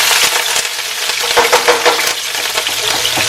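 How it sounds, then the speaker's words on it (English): Seasoning sizzling and crackling in hot oil in a pan for Jamaican-style steamed cabbage, a steady loud fry with bright hissing and small pops, close by with no talk. "So fry up the seasoning right about now"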